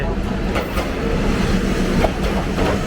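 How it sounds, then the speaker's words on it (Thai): An arriving train at a Thai railway station rolls in with a steady loud rumble and faint rhythmic wheel clatter, close by and continuous. "มาแล้วครับขบวนรถไฟที่เราจะไป"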